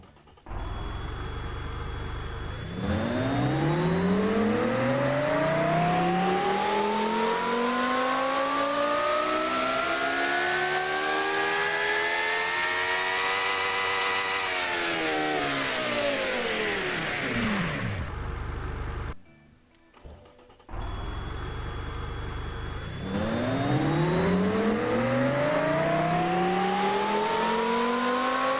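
Simulated twin-charged V10 engine on a dyno in the car-building game Automation, revving up in long sweeping pulls, holding high and falling back, with a brief cut near the end before another strong climb; no talking.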